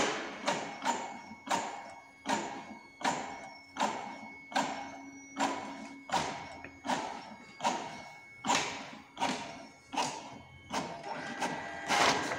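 A Brother printer copying documents runs through a steady series of repeated mechanical thumps and whirring feed cycles, roughly one every 0.7 seconds, close and clear with no talking.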